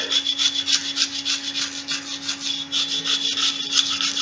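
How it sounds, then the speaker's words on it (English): A brush scrubs the internal rails of a CZ 75 Compact pistol, quick repeated rasping back-and-forth strokes, close and fairly loud over a faint steady hum. "so I need to scrub those internal rails real good"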